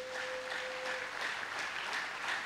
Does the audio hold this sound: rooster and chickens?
no